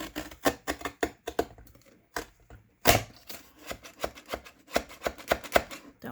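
A trimmer cuts through glued cardboard from window-envelope junk mail, giving a quick run of close, dry, crunchy clicks and snaps at an uneven rhythm, with one louder crack midway.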